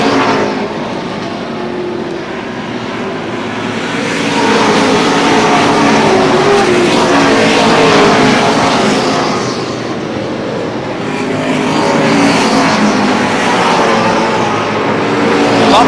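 Pro Stock race cars lap Lee USA Speedway in New Hampshire, a continuous loud engine roar that swells and fades as the pack passes, with no pauses.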